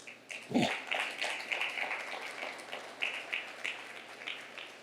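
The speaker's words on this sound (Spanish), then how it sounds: "¿Por qué no das un aplauso a Dios por eso?" A church congregation at a Sunday service applauds, a soft, scattered patter of clapping heard from some distance after a single thump.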